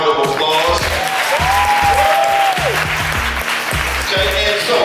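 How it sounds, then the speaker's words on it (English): An audience applauds at a live music showcase evening. The clapping is steady and fills the room, with music and voices continuing underneath. "Let's give them a round of applause."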